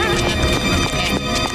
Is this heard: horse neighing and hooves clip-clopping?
yes